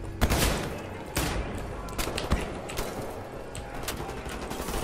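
Repeated shotgun blasts in Wolfenstein: The New Order boom in a rapid, uneven series over dense combat noise, each shot a sharp close burst layered with mechanical clatter.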